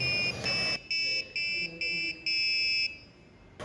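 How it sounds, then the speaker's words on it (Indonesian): An electronic buzzer in a lab setup plays a programmed tune as a series of shrill, steady tones. Notes of varied length are broken by brief gaps, heard up close with no talking. "Percobaan berhasil dengan buzzer berbunyi sesuai nada yang telah diprogram."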